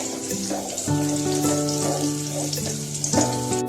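Hariyali chicken frying in a pan while being stirred, a close sizzle with wet scraping and clatter, steady underneath a tonal hum that shifts in pitch.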